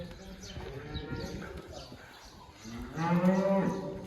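Milking cows moo nearby, a few low drawn-out calls, the loudest one near the end, over soft background chatter.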